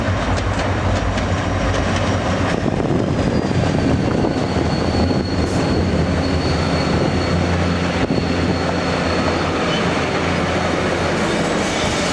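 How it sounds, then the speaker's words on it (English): Eastbound Rocky Mountaineer passenger train rolling steadily past up close, a loud continuous rumble of wheels and cars with a faint high whine throughout. "we see the eastbound Rocky Mountaineer that followed behind the California Zephyr"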